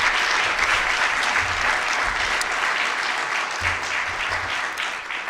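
An audience at a weather conference claps after a seasonal hurricane forecast presentation, a steady round of applause that fades slightly toward the end.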